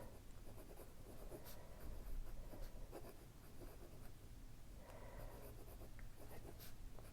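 A Yovo nib pen scratches across paper in faint, irregular strokes close by, with soft scraping sounds rising and falling through a quiet room.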